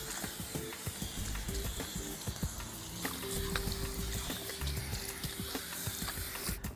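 Water spraying and running through thick hair during a salon rinse: a steady, hissing patter, close and continuous, with small shifts as the stream moves.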